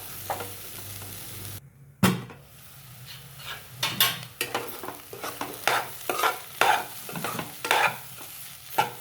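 Egg bhurji with kokum being stir-fried in a pan, a spatula scraping and stirring in repeated strokes over a low sizzle, close and fairly loud, with no talking.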